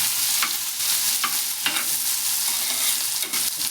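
Vegetables cook in butter and oil in a pan with a bright, continuous sizzle, punctuated by several close scraping stir strokes. No voices.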